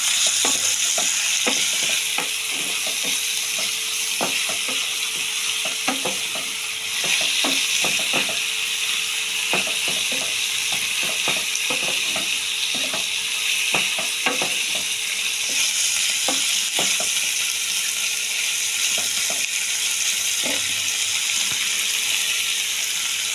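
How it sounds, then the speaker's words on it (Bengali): Steady, close sizzling of chopped mutton fat frying with onions in a pan, with a constant crackling hiss and regular clinks of a utensil stirring throughout; no voices. "এটা পেঁয়াজের সাথে ভাজা ভাজা হতে থাকবে।"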